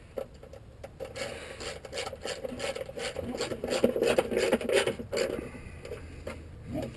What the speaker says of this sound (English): These are plastic nuts, so just snug.